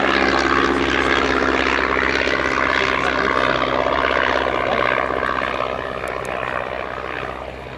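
De Havilland DH.82A Tiger Moth biplane performing a flying display at Sywell Airshow, its propeller engine droning loud and steady overhead, then slowly easing as it moves away.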